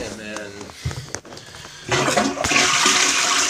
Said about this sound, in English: after flushing all this water with the valve turned off